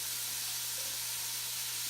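Bacon fat rendering in a cast iron pan gives off a steady, soft hiss and sizzle that holds evenly from start to finish, with no voices.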